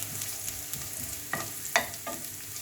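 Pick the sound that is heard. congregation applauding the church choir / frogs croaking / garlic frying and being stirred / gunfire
garlic frying and being stirred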